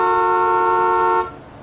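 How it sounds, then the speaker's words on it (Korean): A single steady car horn blast, honked by a boy waiting in the front seat outside, holds for over a second and then cuts off, leaving faint background hum. "아들이 다시 경적을 울렸다."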